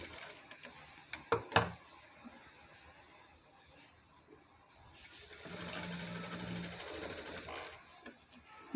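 A sewing machine stitches a designer blouse, running in a steady burst of rapid mechanical whirring at close range. It is preceded by quieter handling clicks and faint rustling.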